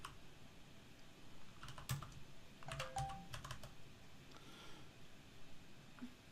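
Fingers tap out short bursts on a computer keyboard, quiet and close, with clusters of keystrokes separated by brief pauses.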